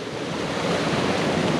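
Ocean surf at Bodega Bay on the California coast rolls in as a steady, broad wash of breaking water and tide, close and fairly loud, with some wind rumble and no voices.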